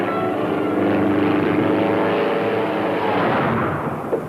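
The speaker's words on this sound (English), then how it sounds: "What's the matter with that plane? That motor don't sound right to me." A propeller airplane engine drones overhead in a 1937 Wyoming setting, sounding off and uneven, a continuous loud roar that swells and then fades slightly near the end, with no talking.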